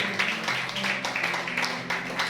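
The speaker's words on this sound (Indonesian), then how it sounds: "Yang setuju tepuk tangan bagi Allah." A church congregation at a Sunday worship service claps in quick, uneven bursts, with a voice faintly audible beneath the applause.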